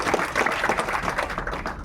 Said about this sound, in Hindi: एक बार तालियां ही बजा दीजिए